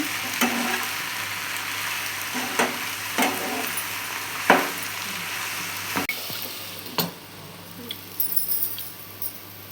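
Vangi bath masala sizzles gently in a pan over a low flame, with a steady frying hiss broken by several close scraping stirs of a spoon against the pan.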